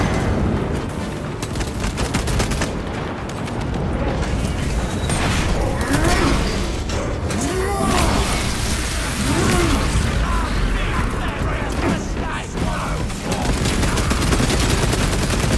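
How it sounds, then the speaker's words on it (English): Frag grenade blasts amid heavy gunfire in Warhammer 40,000: Space Marine 2, a dense, loud, unbroken wall of combat noise with rattling shots and booming impacts throughout. "Frag grenade deployed."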